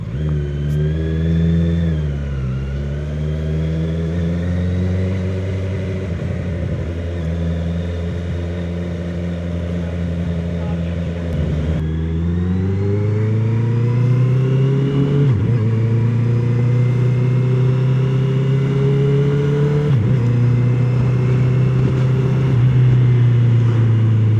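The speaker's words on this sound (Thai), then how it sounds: "ไงได้ยินเสียงท่อชัดขึ้นไหม" A loud Honda CBR650R motorcycle engine with a modified exhaust silencer revs repeatedly, pitch rising and falling in several long throttle sweeps, close by and continuous with no talking.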